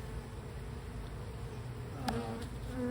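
Agitated honeybees buzz steadily around an open hive during an inspection, a dense, continuous drone close by with a few sharper passes near the end.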